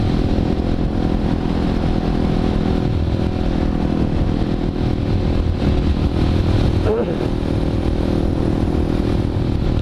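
Steady motorcycle engine drone and wind rush heard from the rider's position on the road, continuous and fairly loud, with a voice talking over it.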